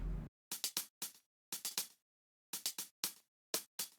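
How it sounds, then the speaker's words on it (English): Chopped percussion loop reduced to crisp hi-hat hits, bright ticks falling in quick clusters of two to four with clean gaps of silence between groups, steady and close. "Then there is a percussion loop cut into pieces and it sounds like this"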